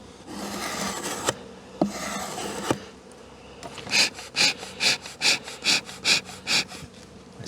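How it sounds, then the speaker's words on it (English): Scraping the wooden surface of a beehive smooth, first long rasping strokes, then a quick rhythmic series of short, close scrapes. "I scrape that to make it smooth so I can write my notes on there."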